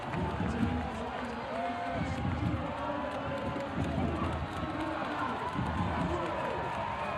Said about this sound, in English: A sellout crowd trying to urge Charleston on into these final 10 minutes